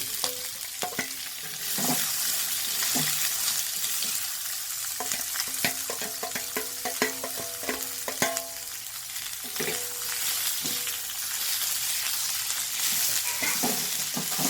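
Sliced onions sauté in a little oil with fennel seeds, stirred steadily in a pan: a continuous close sizzle with repeated scraping clinks and taps of the spoon against the metal, no voices.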